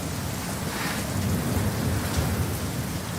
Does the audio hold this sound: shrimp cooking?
no